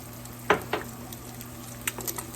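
Eggs frying in a pan for breakfast sandwiches, salted and peppered as they cook, with a quiet steady sizzle broken by a few sharp utensil taps and clinks against the pan.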